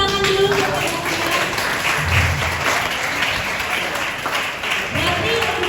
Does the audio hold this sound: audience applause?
yes